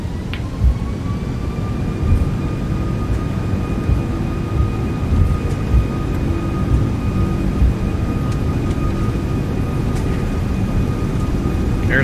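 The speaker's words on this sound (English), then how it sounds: "Takeoff power is set." Airbus A340-600 jet engines at takeoff power in the X-Plane 12 flight simulator make a loud, steady roar with a thin high whine held throughout, close and unbroken.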